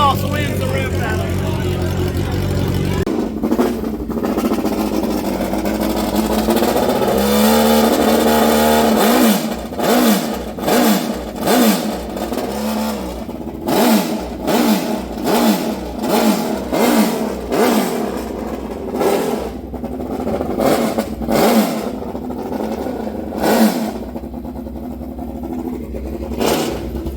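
A Kawasaki street bike fitted with a Voodoo exhaust revs hard and close, its engine climbing and dropping in a rapid series of sharp throttle blips after a steady running drone, with voices talking underneath.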